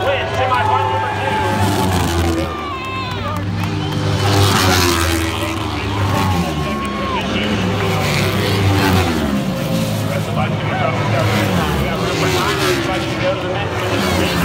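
Kawasaki racing motorcycles in a heat race at Lima, their engines droning steadily in the background beneath continuous announcer commentary over the public address.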